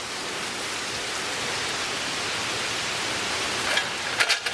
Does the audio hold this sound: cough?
no